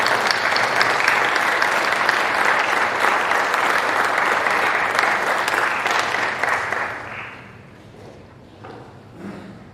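An audience applauds at a Phi Theta Kappa honor society induction ceremony, dense sustained clapping that fades out after about seven seconds into a few scattered thumps.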